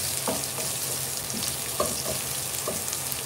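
Ginger sizzling in a hot pan during a Filipino home-cooked chicken dish, a steady close frying hiss broken by a few light stirring clicks and scrapes, with no talk.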